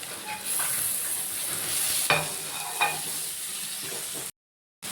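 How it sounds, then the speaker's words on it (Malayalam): Tomatoes sauté in hot oil with a bright, steady sizzle and a couple of soft stirring knocks, close and without talk, before a short drop to silence. "എണ്ണ വഴറ്റി അതിനകത്തേക്ക് തക്കാളി ഇട്ട് കൊടുക്കാം."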